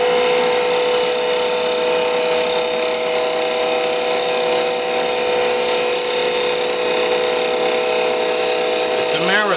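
A wood lathe runs with a steady, loud humming drone while a turning tool cuts the spinning wood, continuous through the whole stretch.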